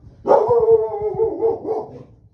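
A dog gives a drawn-out, whining bark that slides down in pitch, close and loud, then trails off into a softer whimper.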